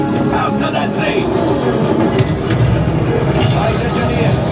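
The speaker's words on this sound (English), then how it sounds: "Ah, there it is. After that train." A train rumbles through the Millennium Falcon Smugglers Run ride at Galaxy's Edge, a loud, dense rolling roar with rattling clatter throughout, close and continuous over a few seconds.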